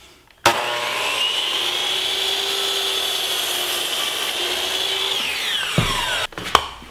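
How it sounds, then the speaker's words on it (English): A saw cuts a miter through walnut and rosewood picture-frame molding in one steady, close rasping whine that lasts several seconds. The blade then spins down, and a couple of sharp knocks follow. "I'll slide the piece of molding to that stop line, and that's my next cut."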